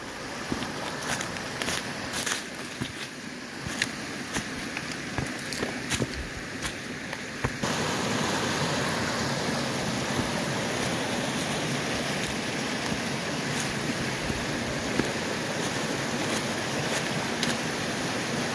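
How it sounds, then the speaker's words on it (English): Small waterfall flumes on a stream beside the Appalachian Trail near Prospect Rock, New York: steady broadband rushing water, rising louder partway through as the listener moves closer, continuous and near. "I heard this waterfall just to the south of that crossing"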